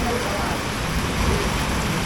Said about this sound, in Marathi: वादळ वारा पण आहे, गाजतंय मोठ्याने।